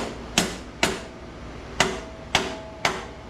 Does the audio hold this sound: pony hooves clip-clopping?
no